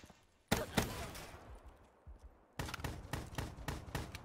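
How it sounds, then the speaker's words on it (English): Shotgun blasts in Call of Duty: Black Ops 3 come as a pair of sharp shots, then a quieter gap, then a rapid string of loud reports close by. "Shotgun."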